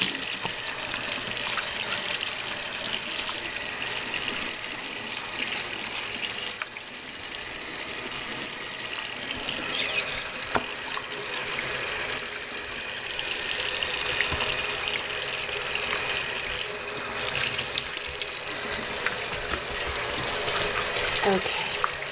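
Tap water runs steadily into a kitchen sink during rinsing, a continuous close splashing hiss with small clatters from handling, lasting over twenty seconds.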